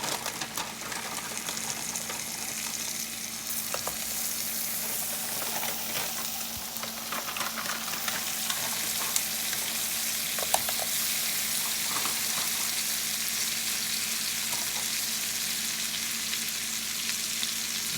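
Scallops pan-searing in a hot pan, seasoned with salt and pepper, give off a steady, close, crackling sizzle that holds evenly for the whole stretch with no voices.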